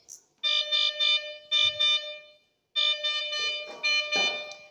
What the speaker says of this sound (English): you can mute the alarm from here